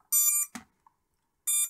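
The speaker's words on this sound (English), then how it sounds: "Oh, now it's beeping at me." A selfie drone sitting indoors gives two short, loud electronic alert beeps separated by a brief gap, with a faint knock between them.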